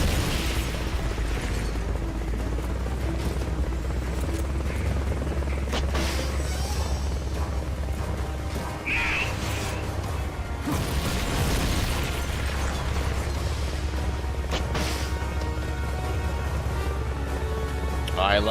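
Missile explosions in the PSP video game Metal Gear Solid: Peace Walker: repeated booms and bursts over a steady mechanical hum, heavy and continuous, with a voice talking over them.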